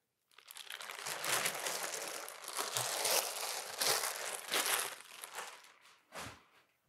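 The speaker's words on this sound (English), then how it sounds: "I'm going to remove the straps, the rest of the protective wrapping around the machine" Protective wrapping and straps are pulled off a Monport Onyx laser engraver, a sustained loud crinkling and rustling of plastic close by, with crunching bursts that fade near the end.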